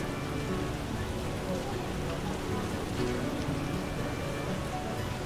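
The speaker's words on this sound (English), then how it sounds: "Raining cats and dogs." Heavy rain pours steadily in the video game The Witcher, a dense, even hiss of drops on surfaces that stays constant throughout with no pauses.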